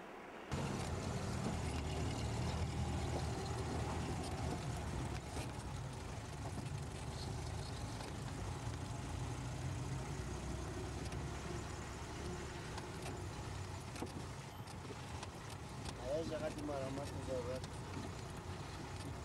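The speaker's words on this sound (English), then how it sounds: "This is the IPSF Jeep." An IPSF Jeep drives a rough Hindu Kush mountain road in the Himalayan range, a steady low engine rumble with wind buffeting the microphone for the whole stretch; a voice talks faintly beneath.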